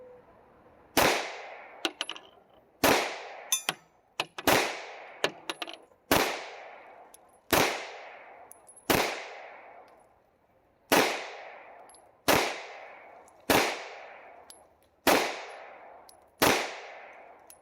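Ten sharp pistol shots from a Rock Island STK 100 ring out at a shooting range, spaced evenly about every one and a half to two seconds, each loud crack trailing off into a brief echo.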